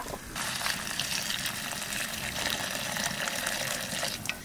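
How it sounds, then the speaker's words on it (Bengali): Hot water pours into mutton curry that has been cooked with yoghurt, a steady, close splashing gush running continuously for several seconds. "দই দিয়ে 5 মিনিট মতন কষালাম, এখন গরম জল দিয়ে দেবো।"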